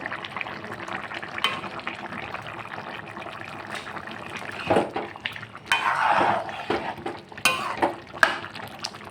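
A thick jackfruit curry cooked with shrimp paste bubbles in a pan, with close wet popping and liquid gurgles in bursts, plus occasional utensil clatter against the pan.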